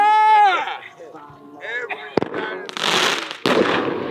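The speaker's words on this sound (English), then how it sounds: "we remembered that fireworks were legal, so we went to go shoot off some fireworks." Fireworks from a whole box set alight at once, going off in a sharp bang followed by dense crackling bursts and loud popping, with excited shouting and cheering voices over the blasts.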